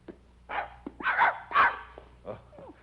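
A dog barks and yips several times up close in an old radio drama, sharp separate barks with a short whimper at the end, alone without speech.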